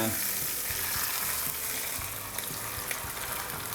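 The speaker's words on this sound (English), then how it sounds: "let's watch the sizzle" Rendered pork fat sizzling and frying in a pan during a slow roast cook, a dense continuous crackle and hiss with faint stirring bumps underneath, close and steady.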